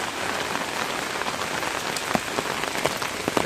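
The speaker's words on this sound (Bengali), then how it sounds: "এখন সকাল বাজে আটটা এখনও বৃষ্টি হচ্ছে" Steady morning rain patters on surfaces around a house, a dense, even hiss with occasional louder drips close by, with no voices.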